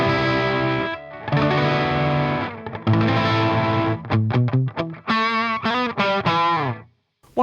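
An electric guitar runs through a Thermionik virtual preamp plugin, producing distorted, sustained chords followed by choppy single notes and bends, loud and close with abrupt stops and no talk.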